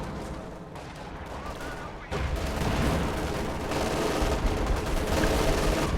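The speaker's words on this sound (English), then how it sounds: "You can see the artillery's falling down." Artillery fire falling in Company of Heroes 2 during a US and Soviet versus Wehrmacht battle, a dense continuous rumble of blasts and gunfire that grows louder and heavier partway through, with some talk in the background.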